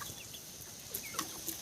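Country chickens cluck softly and intermittently, a few short calls nearby over a quiet background.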